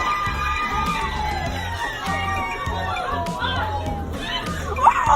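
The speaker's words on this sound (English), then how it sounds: "Karen gets mad at other people cheering for their birthday party" Children shout and a crowd cheers at a birthday party, a dense, continuous din of many excited voices close by, with a louder shriek near the end.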